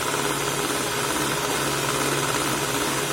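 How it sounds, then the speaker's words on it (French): An electric hand mixer beats hazelnut cake batter with oil being added, a steady loud motor whir running continuously without pause and no talking. "et après on ajoute la vitesse du batteur, voilà, et on bat tout ça."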